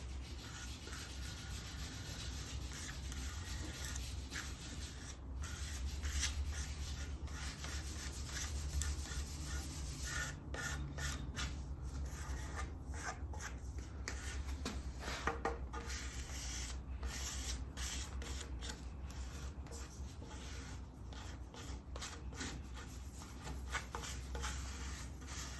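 Steady close rubbing of a cloth or pad working Tru-Oil Goodfilla grain filler into wood grain, a continuous soft scrubbing texture with faint irregular strokes throughout.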